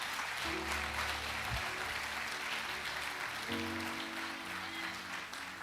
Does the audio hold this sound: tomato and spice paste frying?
no